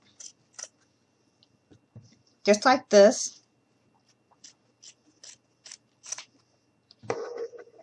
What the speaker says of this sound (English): take your scissors, and we're just going to cut